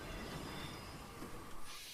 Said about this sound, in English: Sorry, I just hate the train sound.